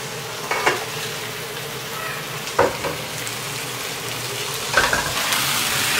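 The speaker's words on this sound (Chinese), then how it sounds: "慢慢给它煎到它啊" Chicken pan-frying slowly in a wok gives a steady sizzle, broken by three louder scraping stirs, close and with no voices.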